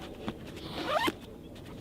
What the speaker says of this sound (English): And that zips top to bottom